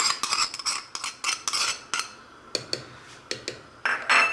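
A metal spoon scraping and tapping inside a can of tomato paste, giving a series of close, bright clinks and scrapes in an irregular rhythm with short gaps, no voices.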